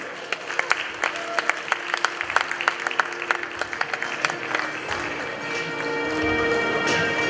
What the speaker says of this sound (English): another big round of applause as we welcome here to the stage our winner